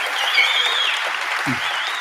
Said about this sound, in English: Can we get a round of applause for our panel of experts?